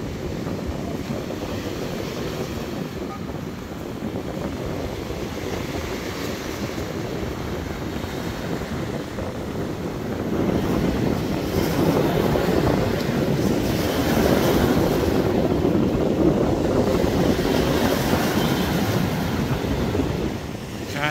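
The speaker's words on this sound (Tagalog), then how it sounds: "napakalakas ng hangin at alon" Strong wind roars and buffets the microphone while Manila Bay waves rush steadily onto Dolomite Beach, growing louder partway through, with no clear voices.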